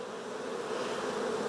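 Honey bees crowd a hive frame during a hive inspection, their dense buzzing hum close and continuous with no talk.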